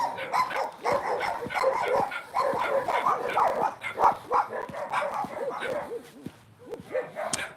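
Several dogs bark loudly and continuously, overlapping yaps and barks in a rapid, excited chorus nearby.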